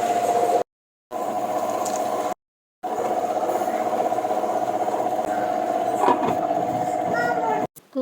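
A wet grinder works soaked rice into appam batter with a steady, close mechanical whir and a faint rhythmic rattle, continuous apart from two brief cuts to silence.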